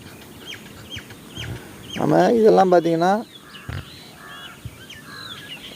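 Native Siruvidai chicks peep in high, scattered chirps at a poultry farm, with a brief burst of louder clucking calls in the middle and someone speaking briefly nearby.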